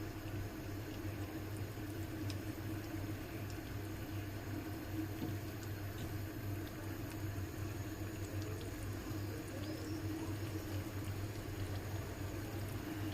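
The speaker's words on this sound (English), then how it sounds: "I'm starting to fry the chicken on a low medium" Steady low sizzling and bubbling of chicken frying in a pan on low-medium heat, constant and fairly quiet throughout with no voices.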